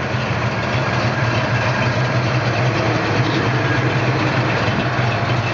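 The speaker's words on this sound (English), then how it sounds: "Rev it up just a little bit." Steady rumbling of a 1970 Buick GS455 V8 engine running, loud and close, a constant idle-like drone with little change in pitch and no voices.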